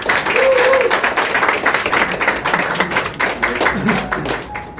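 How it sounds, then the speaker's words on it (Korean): Warm applause from a crowd welcoming an assemblywoman at the opening of her constituency office, dense continuous clapping at a strong, even level with faint voices mixed in. "그 어느 때보다 따뜻한 박수로 맞아주시면 감사하겠습니다"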